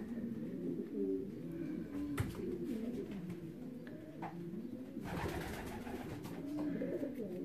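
Racing pigeons returning to the loft after a 309 km race from Olsztyn coo steadily in low, overlapping bursts, a dense flock close by with occasional wing flutters and scuffles throughout.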